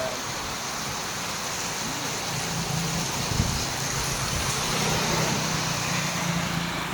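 Steady, dense rain hisses without a break in Puncan, Carranglan, a broad wash of noise with low rumble underneath, like a downpour heard close by.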